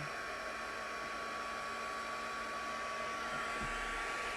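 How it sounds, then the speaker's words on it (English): A heat tool blows air to dry ink on a handmade card, a continuous steady whooshing hum from start to finish, close and even, with no talking. "So let's pull our heat tool. It's going to get noisy now"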